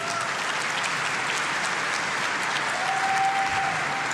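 An audience at a Civilization VII developer panel at PAX West 2024 claps in a dense, steady wash of applause that holds for several seconds without a break.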